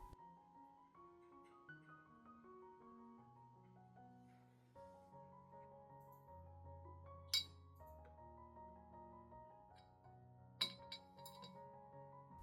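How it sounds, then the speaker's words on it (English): A spoon of cinnamon powder goes into a clean glass cup, giving two sharp, bright clinks of spoon on glass several seconds apart over soft, steady background music. "As I add 1 spoon of cinnamon powder into a clean glass cup."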